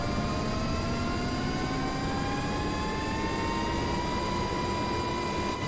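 A UH-60L Blackhawk helicopter engine in a flight simulator game with the power control lever pushed fully forward: a loud, steady turbine whine with several rising tones layered over a dense roar, continuous and without voices.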